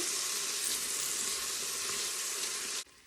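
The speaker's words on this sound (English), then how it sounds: "And now I'm going to be putting in my onions. This is a half of a pretty large onion." Half of a large onion, about a cup, sautés in an Instant Pot with a steady, even sizzle close by that cuts off abruptly near the end.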